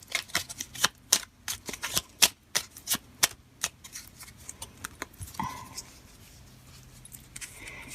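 Oracle cards for a forest-themed draw riffle and snap in a quick, uneven burst of crisp slaps, close and fairly quiet, then settle into a soft hush.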